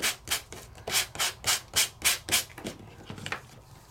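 Hand sanding with a nail-salon style file, with a set of different grits, in a papercraft project: about ten quick, evenly spaced scratchy rubbing strokes, close and fairly soft, then slower, fainter strokes.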